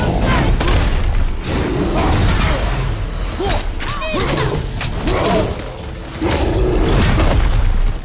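Explosions and combat impacts in God of War (2018), heavy booming thuds and crashes layered with whooshes and debris, loud and dense throughout.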